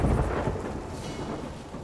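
A thunderstorm in the pirate game Sea of Thieves rolls in as a loud, continuous low rumble of thunder over heavy rain and wind, with no voices.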